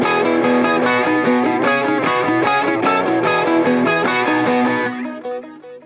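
A high-strung electric guitar picks fast bright notes at full song tempo, washed with delay so the notes blur and overlap into a dense shimmering stream before tailing off near the end; no voices.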